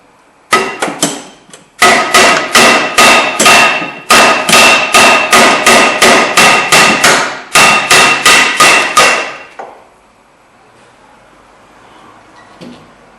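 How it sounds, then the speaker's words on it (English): A hammer bangs repeatedly on the old brake rotor of a 2010 Kia Rondo, about twenty loud, close metallic strikes in a steady rhythm with brief pauses, then quiet apart from one faint knock. "So you can just bang it in the back here and knock it right off."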